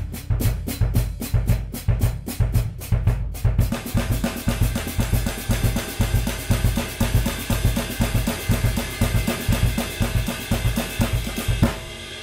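A drum set plays a steady bass drum ostinato on the eighth-note beats, with stick strokes falling on the upbeats in between. It starts with crisp isolated hits, then settles into a dense, loud, driving groove with cymbals.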